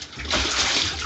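Water splashing and sloshing inside a household water tank during cleaning: a brief, continuous rush of water, loud and close.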